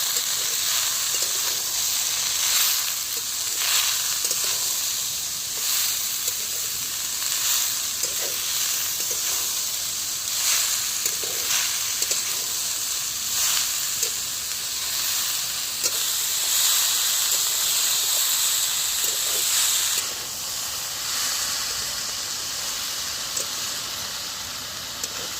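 Beetroot and potato stir-fried in a pan, a steady close sizzle with recurring soft scrapes and clinks of stirring throughout, no voices.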